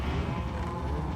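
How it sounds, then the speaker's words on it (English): Cattle lowing in a farming video game, a steady dense bovine moo texture filling the short moment, moderately loud with no talk over it. "Yeah, I hear you, cows."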